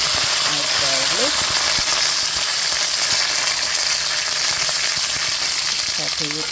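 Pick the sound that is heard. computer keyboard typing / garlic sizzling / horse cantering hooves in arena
garlic sizzling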